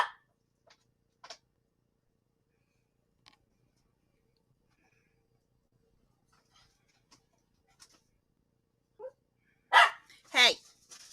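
Mostly quiet with scattered small knocks, then a couple of loud, close dog barks near the end.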